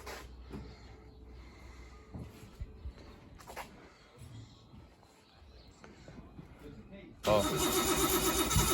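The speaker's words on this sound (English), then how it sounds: "Trent's going to fire her up and load it up on the trailer." A Nissan R32 drift car with an RB25DET Neo engine and no idle control valve cranks over in a garage, with clatter and voices around it, then fires into a loud, dense, rough idle that carries to the end.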